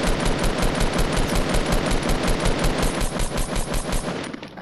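Rapid automatic gunfire in the video game Fortnite rattles out in a fast, even burst of shots, loud and continuous, fading slightly at the end.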